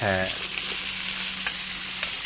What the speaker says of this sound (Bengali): এবার দিয়ে দিচ্ছি কিউব করে কাটা পেঁয়াজ।